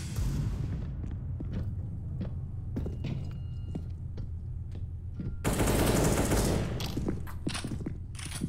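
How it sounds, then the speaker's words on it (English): A flashbang grenade goes off in the game CS:GO: a sudden loud, broadband blast partway through that holds for over a second, set against busy rapid gunfire-like game noise and a low hum before and after. "Throwing flashbang."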